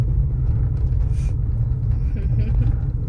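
A car engine runs steadily during a driving lesson, a constant low rumble filling the cabin throughout while people talk.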